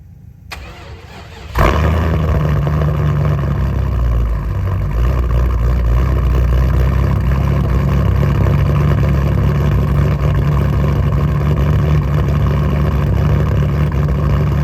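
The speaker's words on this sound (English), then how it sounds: "Cold start for you guys." An off-road rig's engine cold-starts after a brief crank, catching abruptly and settling into a loud, steady rumbling idle up close with no talk.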